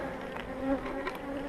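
Honey bees swarm and buzz around an open beehive during a spring inspection, a dense continuous drone close to the microphone with individual bees flitting past.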